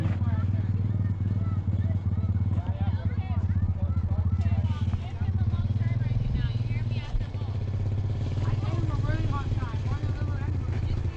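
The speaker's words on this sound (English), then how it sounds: "Freddy, it sounds good, huh, Freddy? Yeah, The motor? uh-huh. Sounded real nice" A diesel engine in runaway, with a big plow on it for tree work, runs close and loud with a constant rough rumble and clatter, while people talk over it.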